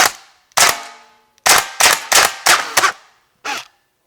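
Several sharp shots from a DAS GBLS GDR15 airsoft rifle with a dead battery, in an uneven sequence, one pair close together, then a pause before a final shot; each pop is loud and close with a brief decay.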